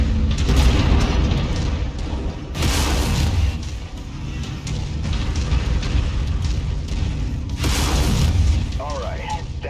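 Mech lasers firing in MechWarrior 5 amid continuous booming battle noise, with several heavy bursts standing out over a dense rumbling game soundscape and a voice speaking throughout.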